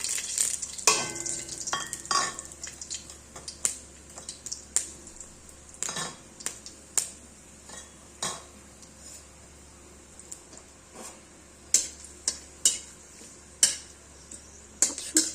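Dried red chili and bay leaf fry in hot oil, giving a soft, steady sizzle broken by frequent light clinks and scrapes of a utensil stirring in the pan, with no talking.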